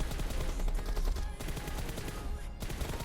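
Rapid gunfire from shooting at enemies in PUBG Mobile, a steady stream of dense, close shots rattling without pause and filling the whole stretch.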